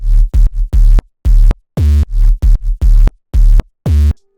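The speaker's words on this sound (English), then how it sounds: "the bright 808 sound and the sub sound like this." Bright, gritty 808 layered under a deep sub bass, hitting in a punchy pattern of about eleven loud, short notes with brief gaps over four seconds, alone with no voice.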